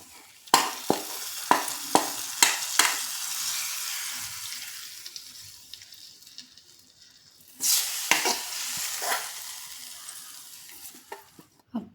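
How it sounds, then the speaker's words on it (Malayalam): Chilli tempering in hot oil is stirred with a few sharp scraping knocks, then poured into buttermilk, leaving a softer bubbling sizzle before a second louder splash and hiss that fades out. "നമുക്ക് ജസ്റ്റ് ഇളക്കി മോരിലേക്ക് ഊറ്റി കൊടുക്കാം."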